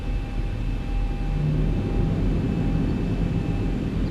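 Boeing 737-800 engines spooling up for takeoff in X-Plane 11, a steady loud jet rumble with a constant high whine that swells slightly as power builds, continuous and close, no speech.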